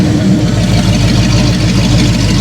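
A 1937 Ford pickup truck engine runs on its first drive, a loud, steady, close rumble that holds without a break and with no voices.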